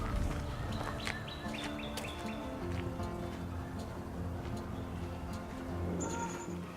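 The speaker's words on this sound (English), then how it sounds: "There's a bunch of geese right over in there, right over here. They're just squawking and squealing" Geese squawking and squealing in a group at Big Hill Park, honking calls repeating over steady outdoor background noise at moderate distance.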